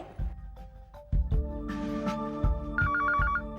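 A phone rings with a melodic electronic ringtone in a Hindi TV serial scene, a repeating pattern of bright tones over background music, fairly loud and close.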